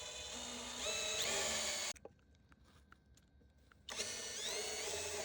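Countersinking tool drilling into a Radium Mach One deck to mount bindings, a loud whining power-tool run in two bursts separated by a quiet pause.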